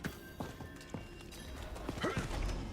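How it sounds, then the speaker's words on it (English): Horse hooves clip-clopping at a steady trot while riding in the Diablo 4 video game, a rhythmic run of close, fairly quiet hoofbeats over low game ambience. "keep riding the horse"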